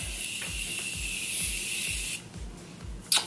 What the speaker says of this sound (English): I'm going to spray some of my Morphe setting mist